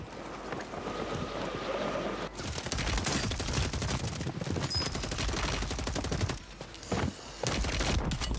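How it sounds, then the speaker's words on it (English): Dense gunfire from many players in the Modern Warfare 3 Warzone video game, rapid overlapping automatic bursts and shots that pour in almost nonstop, loud and close, with brief gaps near the end. "Every single person is shooting me!"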